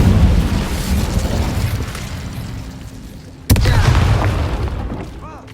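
Incendio fire spell blasts in Hogwarts Legacy, two loud rumbling whooshing bursts, the second starting abruptly midway and fading out with a low roar.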